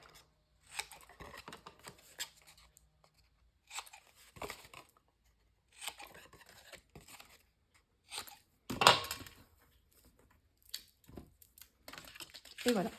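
A small piece of cardboard is cut for a handmade advent calendar box built around a perfume bottle, heard as scattered bursts of close, crisp snipping and crunching separated by quiet pauses.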